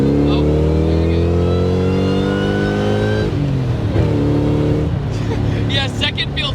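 A supercharged Saleen S281 Mustang pulls hard through the gears, its engine note climbing loud and close, dropping at each shift near three and four seconds, then rising again, with people talking over it.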